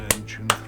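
Two quick, sharp hand claps, close and crisp, spaced about half a second apart against a quiet background.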